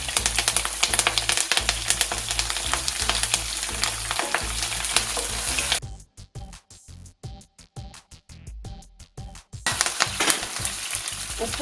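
Chillies and curry leaves drop into hot oil for a Kerala-style lime pickle, giving a loud, crackling sizzle with rhythmic stirring that cuts out briefly before crackling resumes.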